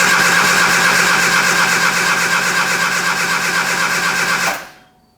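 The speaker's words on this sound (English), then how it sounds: "pull the choke and crank again" A 1973 Triumph Spitfire engine, sitting unused for three years, cranks with the choke pulled. The starter whirs steadily and loudly for about four and a half seconds without firing, then cuts off abruptly.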